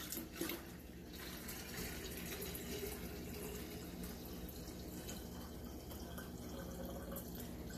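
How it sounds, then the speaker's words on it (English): Cold water poured steadily into a large kombucha jar, a continuous close splashing and trickling rush that stays even for several seconds without talk. "And then we're gonna put in our 8 cups of cold water."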